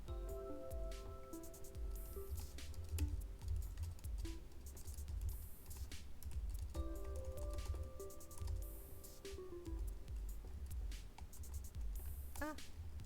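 Typing on a computer keyboard during a relaxed coworking stream, soft continuous key clatter in the background beneath music and someone talking.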